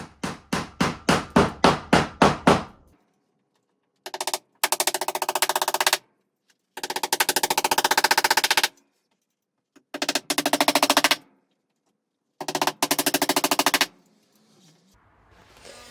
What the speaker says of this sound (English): If anyone's tried hammering upside down, it's really difficult